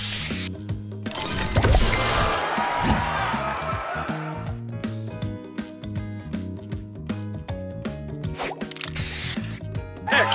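The spray booster effect fires in the Match Masters puzzle game: a loud hissing spray burst, followed by a run of bright, rhythmic chimes and popping game sounds, then a second short spray hiss near the end.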